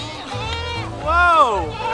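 Goats at a petting farm, where deer are also kept, let out one drawn-out, wavering bleat in the middle, with softer animal calls around it and voices talking throughout.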